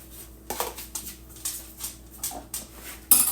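A dog barks outdoors on a rainy day at home, several short moderately loud barks spaced irregularly, with a few clinks and knocks mixed in and a louder burst at the end.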